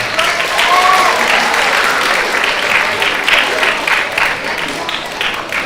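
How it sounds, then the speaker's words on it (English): A school audience at a ninth-grade orientation bursts into loud, sustained applause with scattered whoops, fading slightly toward the end while voices mingle in the crowd. "Clap it up for yourselves, y'all."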